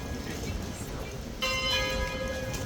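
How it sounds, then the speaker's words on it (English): A bell strikes for eleven o'clock near the King's Guard horses, a bright ringing tone that starts partway through and sustains with clear overtones over a murmur of crowd and background noise. "That's the bell for 11"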